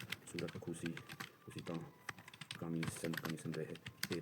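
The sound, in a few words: typing on computer keyboard, Hindi typing test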